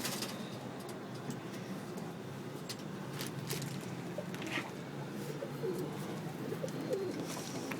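Racing pigeons in a loft give soft, steady cooing calls, a continuous low murmur of several birds close by with occasional louder coos, no talking.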